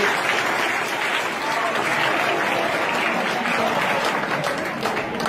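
Students clapping together at a traffic safety awareness program run by traffic wardens in a school, a steady, dense wash of applause held at even loudness for the whole stretch with no voices over it.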